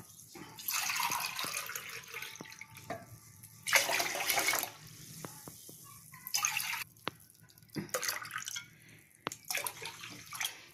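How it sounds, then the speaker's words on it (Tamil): Water is poured by the cupful into a cooking pot for sweet pongal, in several separate splashing pours with short pauses between them, close and clear, with no talking. "இப்போ அஞ்சரை கப்பு வந்து தண்ணி ஊற்றலாம்"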